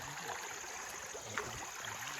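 A stream running over rocks and a large boulder outdoors, a steady broadband rush of flowing water with no distinct talk.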